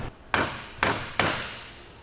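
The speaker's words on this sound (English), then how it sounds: "put it on the table and hit it with a hammer" Three sharp hammer blows on bent metal laid on a table, close and loud, struck at an uneven pace, each one ringing briefly before fading.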